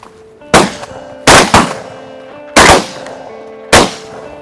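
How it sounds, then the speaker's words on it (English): Shotgun blasts while hunting mallard ducks in October: four loud booming shots, two close together, fired at irregular intervals outdoors with short ringing decay. "it took 3 shots for him"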